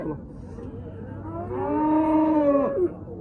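A Simmental cow at a livestock market lets out a long, drawn-out moo that rises and then breaks off, heard fairly close over a steady background rumble.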